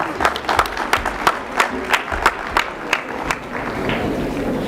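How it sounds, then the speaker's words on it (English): Audience applause at a junior high annual school day at Oshwal Academy Nairobi, a rhythmic run of distinct, fairly loud claps, roughly evenly spaced, fading into a softer wash of clapping at the end. "Please let's give a huge round of applause."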